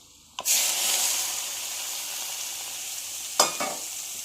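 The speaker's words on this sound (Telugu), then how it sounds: "ఇప్పుడు ఈ తాలింపు ఇందులో పోసేసుకుందాం." Hot tempering oil with garlic is poured into a cauliflower pickle, bursting into a sudden loud sizzle that settles into a steady hiss, with a second sharp crackle near the end.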